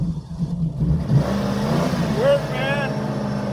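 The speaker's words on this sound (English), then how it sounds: "I'm gonna go ahead and disconnect it right now and see if the vehicle starts" A car engine turns over and catches, then idles in a low, steady rumble under a voice. The car battery had just been charged from an EGO POWER+ Nexus Escape 56-volt, 400-watt portable power station.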